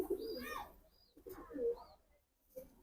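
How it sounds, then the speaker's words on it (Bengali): Quiet, close pigeon coos come in two or three throaty, rolling bursts separated by short pauses. "অনেক বড় সাইজের কবুতর বিগ সাইজের"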